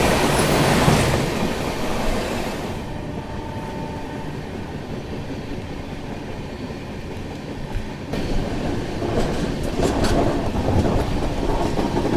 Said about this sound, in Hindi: उस ओर से गुड्स ट्रेन जा रही है